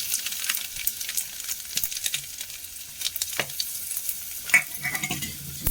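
Crushed ginger, black pepper and cumin frying in a pan for horse gram saaru, giving a close, steady crackling sizzle with occasional stirring scrapes and no talk.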